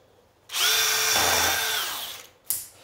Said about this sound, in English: I'm going to drill a 1/8 hole first